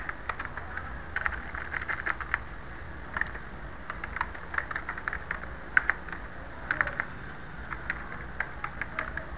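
Fingers tap on a computer keyboard in irregular bursts of light, quick clicks, close and fairly quiet over a faint steady background hum.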